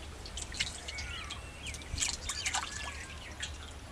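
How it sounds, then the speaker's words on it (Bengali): A hilsa fish is rinsed in water, with close, intermittent drips and small trickles splashing unevenly, accompanied by sharp, high squeaky chirps. No one speaks. "তারপরে মাছটা একটু ধুয়ে নিতে হবে, যাতে বাদ বাকি আঁশগুলো থাকলে এগুলো বের করে"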